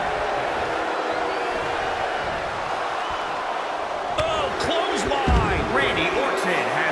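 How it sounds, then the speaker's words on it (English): A packed wrestling arena crowd at a Royal Rumble chants a countdown toward the next entrant, a loud continuous roar with rhythmic rises and sharper bursts toward the end. "Listen to this crowd count the next one in."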